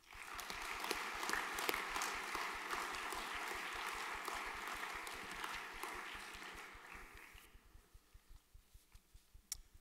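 Faint applause at a junior graduation ceremony, quiet scattered clapping from a small audience that thins out to a few isolated claps near the end.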